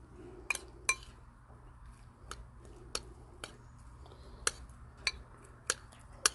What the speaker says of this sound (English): we're going to take our spoon and we're going to kind of mix all this together now